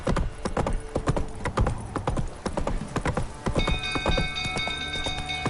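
Horse hooves clip-clopping in The Witcher 3: Wild Hunt in a quick, uneven rhythm, close and loud, later joined by a ringing tonal hum.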